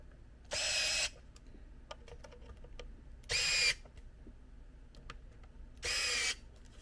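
A cordless power drill drives screws into a battery-powered desktop PC case in three short, loud bursts of whirring, each about half a second, separated by pauses with faint clicks and handling noise.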